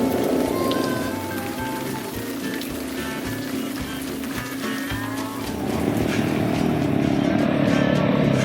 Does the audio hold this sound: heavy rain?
yes